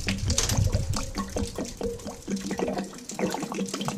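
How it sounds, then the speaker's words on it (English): Water trickling slowly out of the drain petcock of a water heater on an Arctic Fox truck camper, a soft uneven splashing and gurgling stream heard up close and fairly quiet. "So you can see that the water isn't flowing out very fast."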